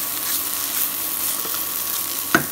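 Sliced okra and potatoes sizzle steadily in a hot pan as they are stirred, with an even frying hiss throughout and one sharp clink of a utensil against the pan near the end.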